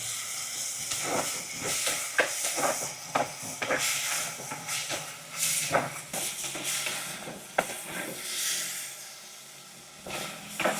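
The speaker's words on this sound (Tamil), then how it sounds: "இப்போ நாங்கள் எல்லாத்தையும் சேர்த்து வதக்குவோம் பாருங்க பழுத்த தக்காளி பழம் பண்ணபடியா உடனே வதங்கிட்டு" Ripe tomatoes being sautéed in a pan, a hissing, steamy sizzle broken by repeated spatula scrapes and knocks in an uneven rhythm, heard close and alone.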